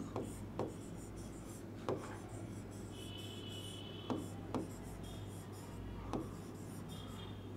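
Pen or pencil writing by hand on paper, a soft continuous scratching with several sharp taps and strokes spaced through, quiet and close, with a steady low hum beneath.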